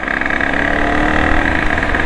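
A motorcycle engine idles close by with a loud, steady rumble and no break for the whole stretch.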